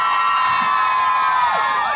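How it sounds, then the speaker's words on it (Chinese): An outdoor concert crowd at the New Taipei City Art Museum in Yingge cheers and screams loudly and without pause. High, sustained shrieking voices fill the sound. "再次给自己一个掌声加尖叫声"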